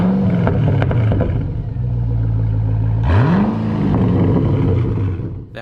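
A rare car's engine revs loudly and up close, holding a steady drone before a sharp rising rev around the middle that swells and then settles back into a continuous rumble, with no talking.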